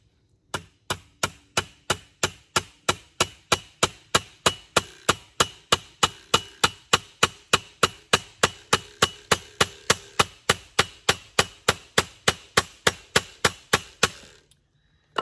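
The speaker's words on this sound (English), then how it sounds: "I want to pound it into this 2x4, this 2x2 rather, with this 2x4" A Microtech Exocet knife is driven into a 2x2 with blows from a 2x4, giving a long, steady series of sharp wooden knocks, about three per second, loud and close with no talking.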